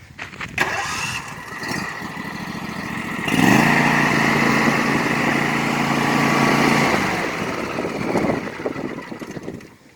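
Ferris 400s riding lawn mower engine starting up and running: a brief cranking catch, then a loud, steady, close engine hum holding for several seconds before it eases off.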